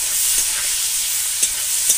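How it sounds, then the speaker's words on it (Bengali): Cauliflower florets with turmeric frying in a pan, a dense steady hiss of sizzling oil with a couple of brief stirring scrapes, close and loud with no talking. "এবার আমি লাল লাল করে কপিগুলো ভেজে নেব"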